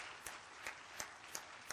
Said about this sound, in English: I want you to join me in giving James a warm hand of applause